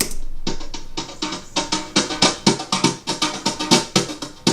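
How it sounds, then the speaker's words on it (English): A brushed snare drum loop, soft swishy hits repeating in a steady shuffling rhythm, close and fairly loud with no talking. "I found a really nice, like, brushes snare sample, a little loop, which sounds like this"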